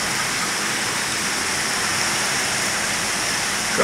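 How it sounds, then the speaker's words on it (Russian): Heavy rain and hail pour down in a storm over Odessa, a dense, steady roar of water and pelting that fills the scene loudly and evenly throughout, with no voices. "Град дикий, наверное, с куриное яйцо. Чуть не выбил стекла. Страшно, темно, заливает."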